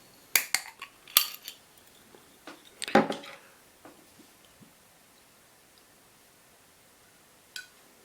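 Bekseju Korean rice wine bottle being opened by hand, a cluster of sharp clicks and clinks from the lid and glass, one louder crack near the middle, then a faint tap after a quiet pause; no talking.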